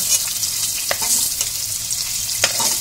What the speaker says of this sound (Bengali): পনিরটাকে আমি হালকা তেলে ভেজে এইভাবে আমি সবকটা পনিরকে তুলে নেব